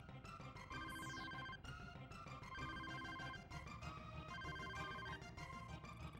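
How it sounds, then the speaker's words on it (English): An electronic telephone rings in the video game Mischief Makers, several repeated bursts sounding through loud, continuous game music with no talking. "A phone call."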